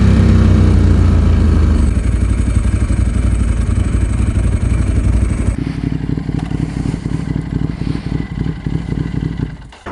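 A KTM 950 SM motorcycle engine roars loudly and close while being ridden. It holds a steady drone, then shifts to a lower, rougher pulsing beat partway through.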